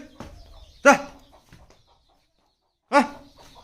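Chickens let out two short, loud clucking calls, separated by a quiet gap with faint background noise.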